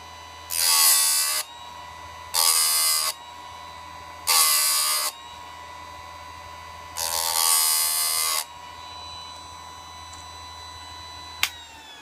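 A Harbor Freight electric chainsaw chain sharpener grinds a tooth in four loud, high-pitched buzzing bursts, each roughly a second long and the last one longer, separated by low motor hum and ending with a sharp click.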